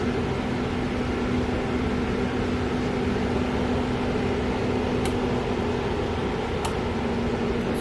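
A steady, droning blower hum from a Colliford hooded hair dryer, with a constant low tone running throughout, broadband and unchanging, with a couple of faint ticks near the end.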